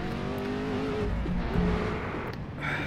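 A Ford GT40 engine races loudly in the Assetto Corsa game at the Targa Florio, a steady harmonic drone rising and shifting in pitch as the car accelerates, near and continuous throughout.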